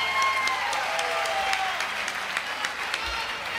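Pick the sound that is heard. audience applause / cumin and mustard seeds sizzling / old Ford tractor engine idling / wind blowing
audience applause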